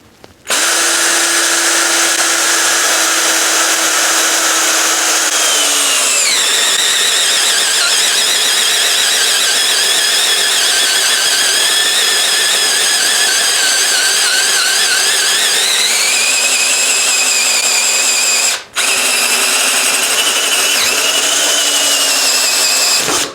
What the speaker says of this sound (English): This little drill is powerful on speed 1.